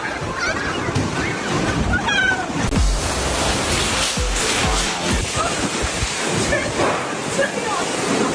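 Typhoon Kajiki hits Sanya, Hainan, with loud, roaring gusts and crashing, surf-like rushes that fill the whole stretch. Excited voices shout and call out over the storm.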